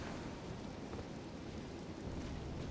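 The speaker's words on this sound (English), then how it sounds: "It's so rainy right now." Rain and thunder in the Elden Ring DLC, a dense, even wash of rainfall with a low rumbling undertone, steady and moderately faint throughout.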